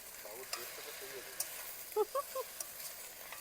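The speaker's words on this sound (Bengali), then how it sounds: "যত সময় না পর্যন্ত শাকটা নেতিয়ে গিয়ে একেবারে অল্প হয়ে যাচ্ছে, ঠিক সেই সময়টা পর্যন্ত শাকটাকে কড়াইতে নেড়ে নিতে হবে" Drumstick leaves being stirred in a wok for a mashed bharta, giving a soft, steady sizzle and scrape with a few short clinks and tonal blips near the middle.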